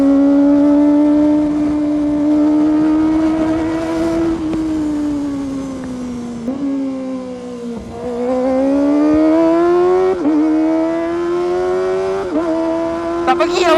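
A Kawasaki ZX25R motorcycle with a quickshifter revs hard and accelerates, its high-pitched engine note rising and dropping through several quick gear shifts, loud and close throughout.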